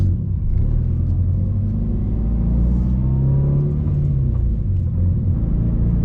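A car with 45,000 miles drives with its windows open, giving a loud, steady low engine rumble and road roar with a faint wind wash, rising slightly in pitch midway.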